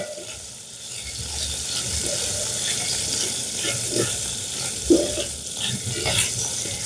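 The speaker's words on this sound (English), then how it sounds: "I'm gonna be frying these." Steady crackling sizzle of food frying in oil, continuous throughout with occasional louder pops and stirring clinks, close by.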